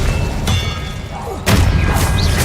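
Incendio fire spell cast in Hogwarts Legacy: a loud, dense whooshing burst with booming low rumble, followed by a second, heavier blast about a second later, both close and sustained.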